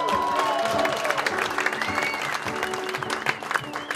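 Concert audience at Knuckleheads Saloon applauding and cheering for a performer, steady dense clapping with crowd noise and some voices mixed in, fairly loud throughout.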